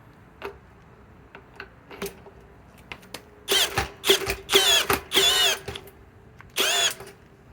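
A Harbor Freight Hercules 1200 inch-pound drill driver set to speed 1 runs in short bursts of whirring that stop and start, with light ticking clicks between them. The sound is close and unaccompanied by speech.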